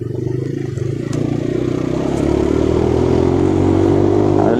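A 125cc budget motorcycle engine running at a steady, loud, close drone that builds slightly in intensity, with a low rumbling hum and faint mechanical clatter throughout.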